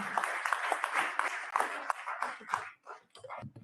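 Crowd applause at a Swarnim Vijay Varsh celebration prize announcement, dense clapping that holds steady and then thins out toward the end, mixed with some talking.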